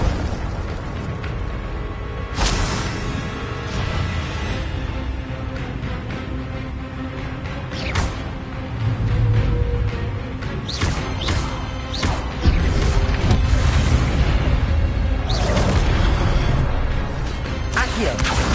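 Fiery spell bursts from the Hogwarts Legacy video game, several sharp whooshing blasts and booms scattered over a dense layer of game music and effects, loud and close.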